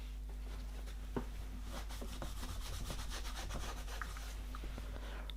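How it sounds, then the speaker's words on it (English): Steady rubbing of a cloth across dry polish on a pair of worn Gucci leather dress boots, a soft continuous scuffing that runs for several seconds with light strokes and no talking. "we just rub the excess off"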